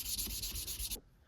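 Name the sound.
hand sanding a knife handle with sandpaper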